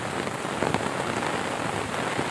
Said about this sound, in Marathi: मंडई पावसाचं आगमन बघा, कसा जबरदस्त पाऊस आलेला आहे बघा